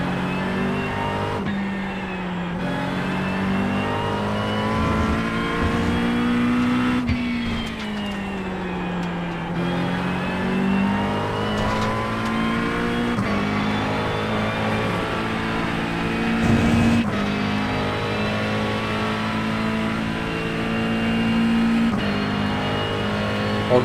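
A GT3 race car in the iRacing simulator, its engine droning steadily and rising and falling in pitch as the throttle is worked and gears change, continuous and close throughout with no speech.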